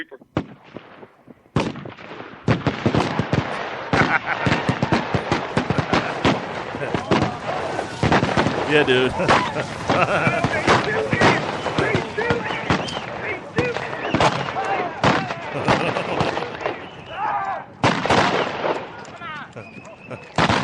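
Rapid cracks of gunfire, dense and sharp, ring out continuously for many seconds in an outdoor setting, with a few people talking briefly amid the bangs.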